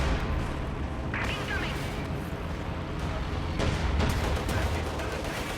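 Rapid automatic gunfire from an aircraft strafing run against infantry in a real-time strategy war game, dense booming bursts layered over continuous battle noise, with a commentator talking over it.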